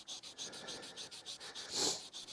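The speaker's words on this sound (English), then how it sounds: "this sanding stick works great" Rhythmic back-and-forth scratching of a sanding stick on a hard surface, about a dozen quick strokes, close and soft, with one stronger stroke near the end.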